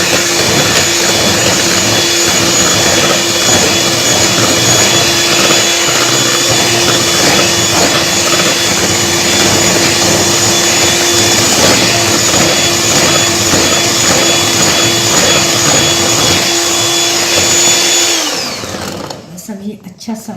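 An electric mixer beats chocolate cupcake batter with cocoa powder, oil, sugar and eggs. It gives a loud, steady whir for about eighteen seconds before it winds down and stops, and there is no talking.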